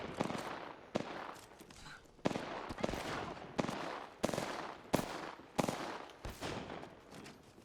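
Repeated gunfire bursts in the battle royale game Apex Legends, sharp shots at a steady rhythm of roughly one every second, fairly close and loud, with faint speech underneath.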